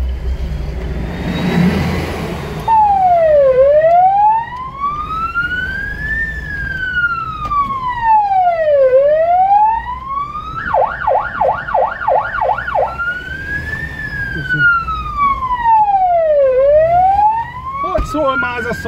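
Ambulance siren heard from inside the vehicle during an emergency run: a slow rising and falling wail cycles repeatedly, briefly switches to a rapid yelp, then returns to the wail. It sounds fairly subdued, with low engine rumble underneath.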